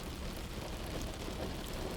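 Steady rain falling, a dense, even hiss of drops on surfaces with a low rumbling undertone, continuous and fairly quiet with no voices.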